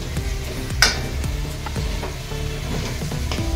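Paneer cubes being sautéed in a pan with cooked vegetables: a steady close sizzle with occasional scraping and clinking as a spoon gently stirs, one sharper knock near the start.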